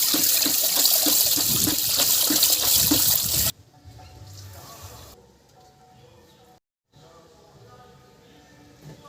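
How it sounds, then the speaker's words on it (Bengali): Tap water runs hard into a sink while spinach is rinsed, a loud splashing stream for the first few seconds that cuts off abruptly, leaving quieter kitchen sounds and a brief silence. "শাকটা এখন আমি ভালো করে ধুয়ে নিয়ে চলে আসি"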